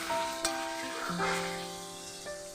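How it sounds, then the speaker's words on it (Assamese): Meat frying in a pan with spices, ginger, garlic and green chilli, a steady sizzle under tonal kitchen hum and a few stirring clatters. "মাংসখিনি এবাৰ লৰাই দিওঁ।"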